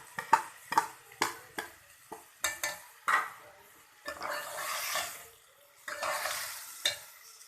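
Chopped tomatoes go into a pan of browned onions and are stirred, giving a series of sharp scraping and clattering strokes followed by bursts of hissing sizzle, close and fairly quiet.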